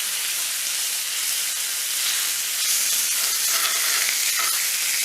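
Thin-cut steak sizzles in a hot pan, a bright, steady hiss and crackle that stays loud and even throughout with no one talking.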